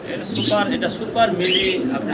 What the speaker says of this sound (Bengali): আজকে দর্শক আমরা এখানে সিঙ্গেল সিঙ্গেল আরও দুই পিস কবুতর দেখতেছি